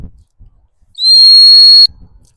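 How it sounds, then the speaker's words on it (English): A single loud, sustained blast of about one second on a gundog stop whistle during training of a working cocker spaniel, sharp and high-pitched, with quiet rustling before and after. "I've just stopped her on the stock whistle."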